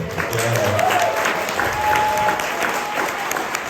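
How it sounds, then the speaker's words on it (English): An audience at a New Year concert by a German center applauds the conductor, a steady sustained wash of clapping with some crowd murmur and whistles mixed in. "please give another round of applause to our maestro"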